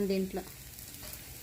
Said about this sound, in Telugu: టమాటా చట్నీ దీంట్లో వేసేసుకుందాం